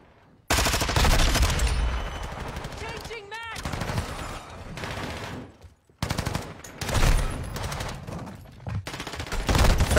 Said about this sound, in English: But it's a submachine gun.